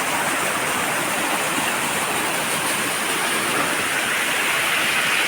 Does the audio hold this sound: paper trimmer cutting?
no